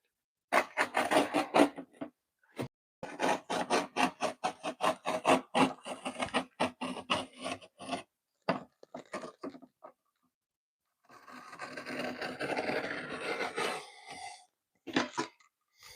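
A wooden board piece is trimmed to size by hand: bursts of rapid, rhythmic scraping strokes break off, pause, then return as a longer steady rasping run, ending with a few short strokes.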